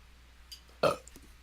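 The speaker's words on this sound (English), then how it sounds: "I see your hiccup and raise you a burp." A single short, loud burp bursts out from a player during a tabletop game session. It stands alone against a quiet room background, with only a faint murmur just before it.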